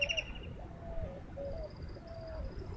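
Doves coo nearby in repeated soft, low phrases, joined by faint higher bird chirps against a quiet outdoor background.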